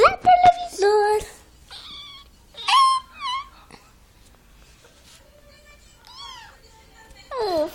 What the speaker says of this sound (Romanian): pe pisica asta o cheamă Mariposa